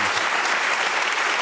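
A studio audience at a Swiss television debate show applauds, a dense, even wash of clapping that stays loud and steady throughout without speech.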